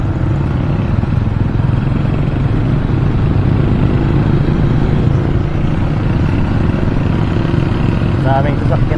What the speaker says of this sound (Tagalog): Dami talagang sasakyan dito sa Ordaneta.